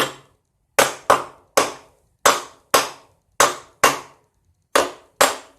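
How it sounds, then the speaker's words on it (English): Nine sharp, close taps, probably from a nylon hammer, seating a dropped table saw's metal part down into a vise. They come singly and in quick pairs with short pauses between, each ringing briefly before it dies away. "One thing I didn't do yet is tap it down to make sure that it's at the bottom of the"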